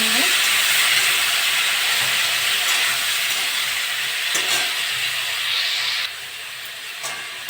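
Tomato frying in hot mustard oil with panch phoron and dried red chilli while being stirred, a loud sustained hiss with occasional scraping clicks that drops off noticeably near the end.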